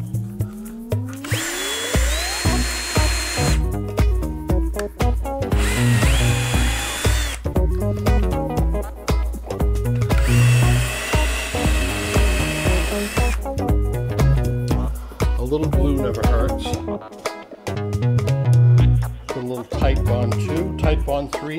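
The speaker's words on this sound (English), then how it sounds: "I'm gonna drill a bunch of holes with countersinks to put the screws in" A power drill boring countersunk screw holes into wood for a small camper leveler, a loud close motor whining in repeated bursts of a few seconds each with short pauses between holes.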